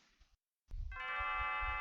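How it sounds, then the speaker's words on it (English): Leene's bell ringing in Chrono Trigger, a chiptune-style chime that sounds after a brief silence and sustains as a bright, steady ringing tone over soft low background music. "Oh, look, Leene's bell is ringing."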